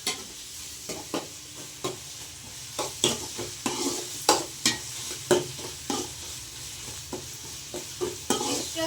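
Onions frying in hot oil in a pan with a steady sizzle while being stirred, the spoon scraping in repeated close strokes of irregular rhythm and nobody talking.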